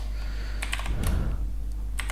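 Keystrokes clatter on a computer keyboard while a Python file is being created in VS Code, a few quick close clicks in short bursts over steady low background hum.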